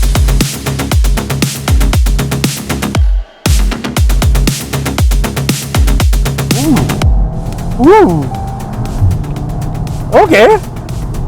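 A new Skoda Octavia RS is driven hard, its engine revving through rapid gear changes with a pulsing, rising note and a brief lift, while an occupant whoops and talks.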